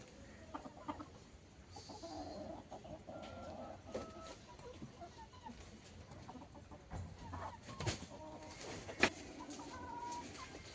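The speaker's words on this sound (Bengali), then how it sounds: "মারামারি করছে, আসলে মোরগটা বেশি হয়ে গেছে" Roosters squabble among an overcrowded flock of village chickens, with scattered clucks and squawks and a sharp flurry near the end over a steady outdoor hum.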